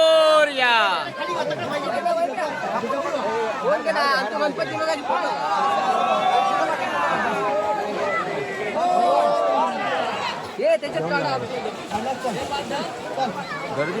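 Dense crowd chatter fills a Ganpati immersion procession in Konkan, with many overlapping voices and shouts forming a steady, close hubbub throughout.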